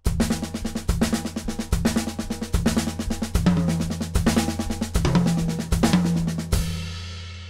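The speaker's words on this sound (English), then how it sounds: "In this instance, the hi-hat and bass drum will be in unison if you're playing quarter notes" Drum kit playing a septuplet pattern with hi-hat and bass drum striking in unison: eight or so evenly spaced, punchy hits with ringing cymbal wash, close and clear, ending with a decaying ring.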